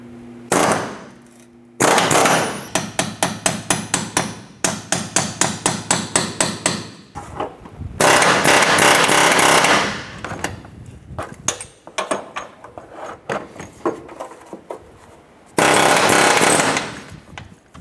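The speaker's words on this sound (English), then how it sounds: "We're going to go ahead and use our air chisel" An air chisel hammering out a subframe crossmember bushing on a 2006-2013 Chevrolet Impala, loud close bursts of rapid pneumatic pounding and sharp metallic strikes, starting and stopping in several runs with short pauses between.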